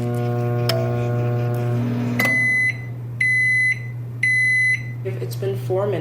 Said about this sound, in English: I'm gonna put this in the microwave now.